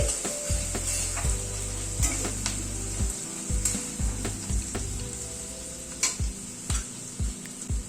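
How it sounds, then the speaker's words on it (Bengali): Onion frying with half a teaspoon of garlic paste for chicken with tossed vegetables, sizzling close up under repeated scraping and clanking stirs of a spoon against the pan. "রসুন বাটাটা দিয়ে আবার একটু পেঁয়াজের সাথে নাড়াচাড়া করে নিচ্ছি"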